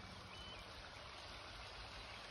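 A river in the Swiss countryside with snowy mountains behind, a steady, even rush of flowing water throughout, faint and continuous with no talking.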